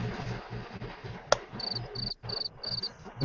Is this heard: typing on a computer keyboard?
no